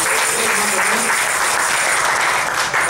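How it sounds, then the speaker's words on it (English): Crowd applause thanking event volunteers: a continuous, even roar of many people clapping together, loud and sustained throughout. "Let's give them a round of applause for"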